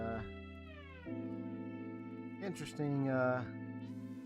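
A cat meows several times in a row, close and fairly quiet, with drawn-out, wavering cries that rise and fall, the last one louder and more strained.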